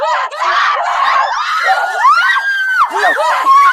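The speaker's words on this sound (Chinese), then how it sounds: "她情绪崩溃的惊声尖叫" A girl's loud, shrill scream of horror from a thriller film, rising and breaking into wavering cries, close and sustained, with other voices briefly mixed in.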